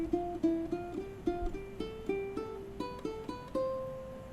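Ukulele playing a scale exercise in F that climbs three steps and drops back one, a run of clean single plucked notes at an even pace rising in pitch, soft and close with no talking.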